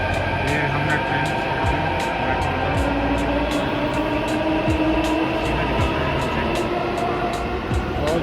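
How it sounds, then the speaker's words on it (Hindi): A passenger train in motion around Delhi, heard from on board as a steady, loud rumble with repeating wheel clicks on the rails, while voices talk over it. "ये हमारी ट्रेन चल रही है।"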